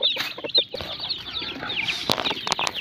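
Pet chicks and chickens clucking and peeping at feeding time, a busy overlapping chorus of chirps and clucks, fairly close, with a few sharper calls standing out.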